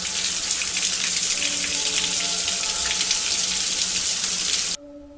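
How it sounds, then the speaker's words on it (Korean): Shower water streams down steadily with a loud, constant hiss, then stops abruptly near the end. "나는 대충 샤워를 하려고 샤워기를 돌리는 순간"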